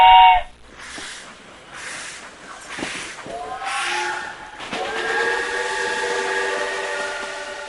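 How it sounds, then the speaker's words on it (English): Steam-type train whistle of the Khyber Safari train in the mountains of the Khyber Pass, Pakistan, sounding in several long sustained blasts with hissing and rail noise, growing steadier and louder toward the end. "the Khyber Safari train runs through the rugged mountains of the Khyber Pass"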